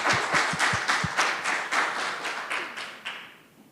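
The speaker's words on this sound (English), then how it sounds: "can we just clap for Sarah?" An audience at the SAAIR Quality Forum 2022 claps for Sarah, a short burst of applause with sharp nearby claps at first that thin out and fade within a few seconds.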